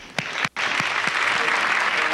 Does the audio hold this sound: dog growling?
no